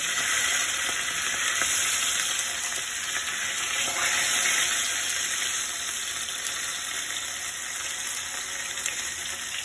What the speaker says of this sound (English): Now we are frying the other side of the fish.